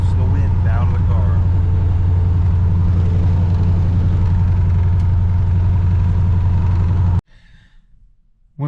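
Steady low engine rumble and road noise from inside a moving G-body Chevrolet El Camino with new window weatherstripping, continuous and fairly loud, cutting off abruptly near the end.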